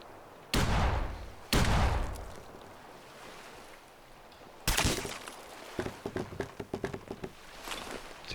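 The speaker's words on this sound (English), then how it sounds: "Missile launcher. Missiles." Missile launcher firing in Fallout 4, two heavy whooshing launches a second apart followed by a louder blast and a rattling series of impacts and debris, with no talk.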